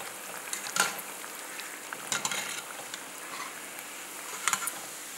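Drumstick leaf (murungai keerai) vadai frying in hot oil, giving a steady crisp crackle and sizzle with a few louder bursts of bubbling, close and moderately quiet, with no talk.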